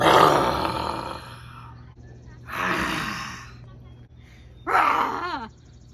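People at a church camp imitating a dinosaur roar with their voices, three loud breathy roaring bursts separated by short pauses, the last one rising and wavering.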